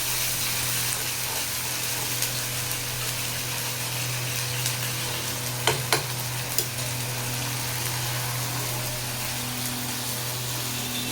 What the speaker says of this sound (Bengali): এইখানে একটু আলু জিরে ফোড়ন দিয়ে দিচ্ছি